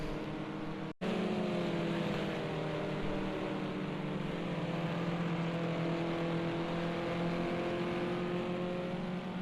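BMW 320 race cars in a sim racing video game drone with a steady, dense engine hum, several engines blending into one continuous roar after a brief dropout near the start.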